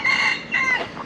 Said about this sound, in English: Hello, rooster thing. Rooster.